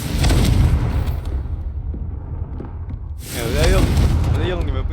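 A Confringo blasting spell explodes in Hogwarts Legacy with a loud, rumbling boom that decays into a quieter tail. A voice then speaks over the renewed noise.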